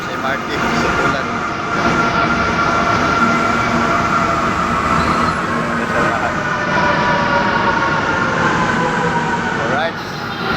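Manila MRT train rumbling at a station, a loud steady rolling drone with squealing tones and a faint siren nearby, alongside talking.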